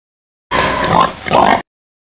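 Piglets about 21 days old at a hog farm, grunting and oinking in two close, loud bursts separated by a short dip.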